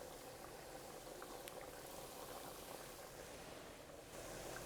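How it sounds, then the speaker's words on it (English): Boortsog dough fries in oil at medium heat on an electric stove, giving a faint, steady hiss and crackle of bubbling oil that runs without a break and without any voices. "I'm frying it like at medium heat on my electric stove"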